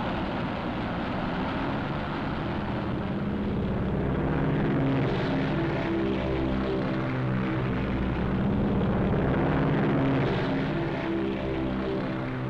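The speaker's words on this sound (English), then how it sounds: "Navy planes roared from the decks of our carriers" Navy propeller planes taking off from an aircraft carrier deck in wartime footage, a steady, loud, droning engine roar with a throbbing beat that swells slightly, no voices.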